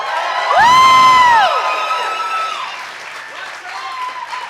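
An audience at a tech accelerator demo day cheers and applauds, with a loud whoop rising over the crowd early on and then steady clapping and scattered shouts continuing beneath.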